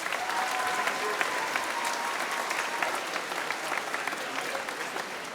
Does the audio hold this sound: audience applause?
yes